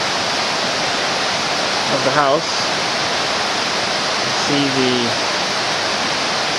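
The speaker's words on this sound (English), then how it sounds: "the waterfall there, as he built the house right on top of it" A waterfall flowing beneath a house in the Smoky Mountains, a steady broad rushing roar throughout, with someone talking briefly over it twice.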